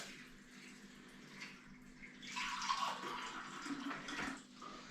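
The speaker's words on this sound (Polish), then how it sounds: "Wiecie co, ja doleję jeszcze tutaj wody, zimnej oczywiście." Cold water is poured into a ground sausage meat mixture, a soft splashing trickle that swells midway into a louder gush before tapering off, close and fairly quiet, with no talking.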